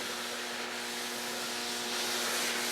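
Block sanding of primer on a Ford F350 stakebed cab with 320-grit sandpaper makes a steady, close, scratchy rubbing that continues without pause and without voices.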